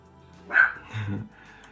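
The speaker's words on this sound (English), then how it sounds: "my dogs are going crazy" Dogs bark in the background of a room, two short, sharp barks about half a second apart at moderate distance, with a brief hush on either side.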